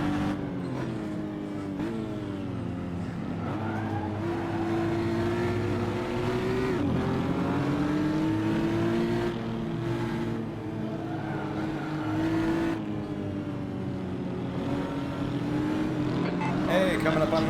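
GT4 race cars battle in Assetto Corsa, one engine droning and rising through the gears as it revs hard, with other cars close by and someone talking over the racing.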